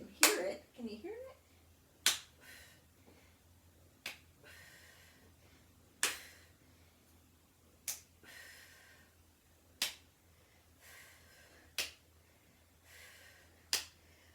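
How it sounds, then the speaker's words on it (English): Sharp single hand claps ring out during a floor exercise workout, spaced roughly every two seconds. Each clap is crisp and fairly close, over quiet breathing and a low background hum. "And I'm trying to get a good clap so you can hear it."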